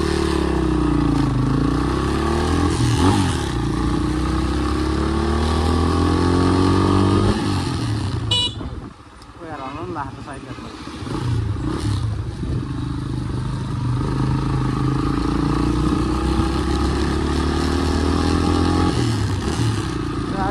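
A motorcycle engine hums steadily while riding, shifting pitch as it speeds up and slows, with a brief dip and clatter midway.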